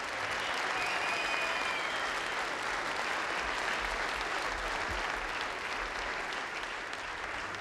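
Sustained applause from an audience at a motor-racing prize-giving for the JPS Lotus mechanics team, a steady dense clatter of clapping hands filling the room without letup from start to finish.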